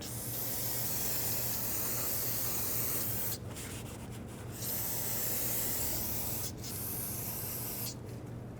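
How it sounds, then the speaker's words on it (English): Brake parts cleaner spraying onto a front brake caliper from a 1996–2002 Toyota 4Runner in a garage, heard up close as a long steady aerosol hiss broken by two or three short pauses, with no voices. "Now I'm just gonna grab some brake parts cleaner, clean it all off because I got brake fluid all over it."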